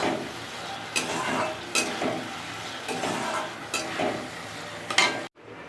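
Fish curry with potatoes sautéing in a pan, a continuous close sizzle broken by repeated scraping stirs of a spatula against the pan at irregular intervals, ending in a sudden brief quiet.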